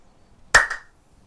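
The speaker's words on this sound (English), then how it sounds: "So see how loud you can make your clap." A single loud hand clap, smacked palm to palm with one arm sweeping in from the side during a seated chair yoga exercise, a sharp crack with a brief ring-off in an otherwise quiet room.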